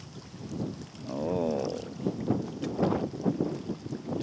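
Wind blowing by a lake on a chilly day, a rough, gusting rumble against the microphone that swells in the middle. A brief warbling tone sounds near the start.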